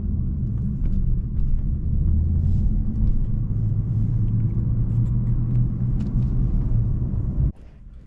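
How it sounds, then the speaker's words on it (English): A BMW M340i driving in regular morning traffic, its steady low engine and road rumble heard from inside the cabin, continuous and loud, easing off abruptly near the end. "It's regular traffic."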